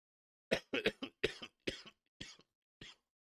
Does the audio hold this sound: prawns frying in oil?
no